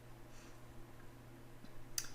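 Computer mouse clicks, a few faint sparse clicks over a steady low electrical hum, with no talk.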